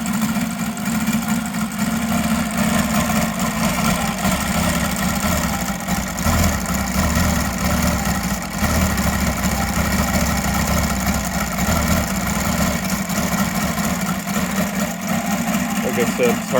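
A UMS 7-90 seven-cylinder radial gas engine idles steadily and loudly close by, a continuous low throbbing rumble with even firing and no breaks over the whole stretch.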